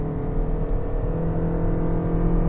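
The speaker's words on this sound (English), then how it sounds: "So I'm gonna roll onto the throttle here just in normal mode." A 2023 Toyota Crown Limited with 236 horsepower accelerating under throttle in normal mode, a steady loud engine drone and whir heard close and alone.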